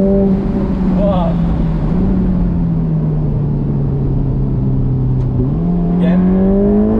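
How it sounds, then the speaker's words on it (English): Ferrari Portofino M V8 heard from the cabin with the roof up: a loud, steady engine drone with small shifts in pitch as revs change, rising again near the end, with a voice faintly present underneath. "you can enjoy the sound of that V8 a little bit more"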